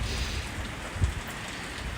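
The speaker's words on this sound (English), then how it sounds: "we are having what is considered moderate rain, light to moderate" A moderate shower falls during a Boston thundershower, making a steady, even hiss of raindrops with one soft thump partway through.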